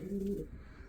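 Pigeons give a short, close coo in a loft area, a low soft bird call that fades into quiet background.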